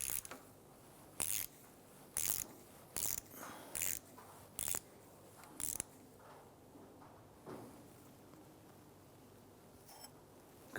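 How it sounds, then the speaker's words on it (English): A 15mm socket on a ratchet loosening the damper shock nut on a 1999-2004 Jeep Grand Cherokee front end: seven sharp, evenly spaced bursts of clicking pawl, close and clear, then quiet with faint shuffling. "we're going to use our 15mm socket to loosen this nut"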